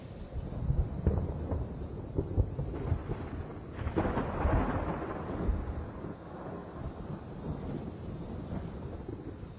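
Thunder from an approaching storm rumbles in low, uneven waves with a brief swell partway through, set against wind noise in a scripted drama scene, with no voices.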